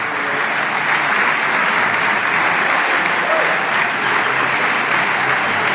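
An arena crowd cheers and applauds loudly and steadily as a player makes his way to the stage at a Weber Cup bowling event, a dense unbroken roar of clapping and shouts throughout.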